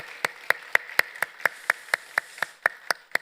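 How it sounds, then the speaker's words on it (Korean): A church congregation claps for the choir and conductor, sharp claps landing in steady unison at roughly four per second over a quiet hall. "지휘자님과 우리 찬양대 위해서 격려의 박수 한번 하겠습니다"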